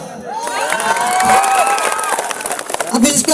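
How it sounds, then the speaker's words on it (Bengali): A stage-program audience cheers and claps, a lively crowd roar with shouting voices that stays fairly loud and steady for a few seconds. "আর আমার জন্য একটা জোরদার তালিয়া"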